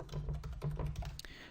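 Quick clicking taps from a computer keyboard as code is typed, a short close-up burst of uneven keystrokes.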